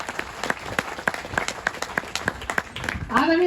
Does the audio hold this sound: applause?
yes